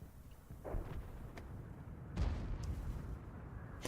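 A single heavy artillery cannon boom in a tank video game sounds midway through, with a few fainter thuds and crackles around it, all fairly quiet.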